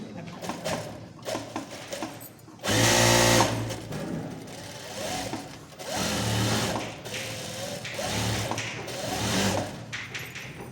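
Sewing machine stitching a pant, running in several loud mechanical bursts with short pauses between them. The strongest, harshest run comes early on, followed by quieter, steadier passes.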